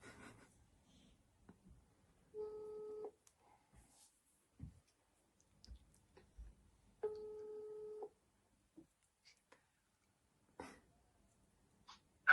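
An outgoing phone call from a withheld number plays through a speaker, with two ringback tones about four seconds apart against near silence and faint handling noises between them.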